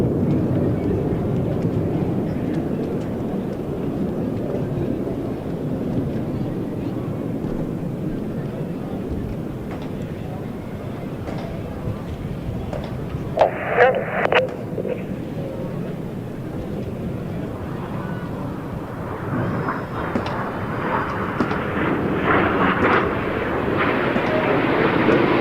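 Military display jets at the NATO Days and Czech Air Force Days air show flying the low crossbow pass at about 50 meters, a sustained jet roar swelling toward the end, with a commentator talking over it.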